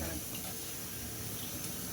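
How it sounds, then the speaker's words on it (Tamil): Water pours steadily into a cooking pot of tomato rice, a continuous faint splashing wash with no breaks. "தண்ணி ஊற்றிக்கலாம் அளவாக பார்த்து."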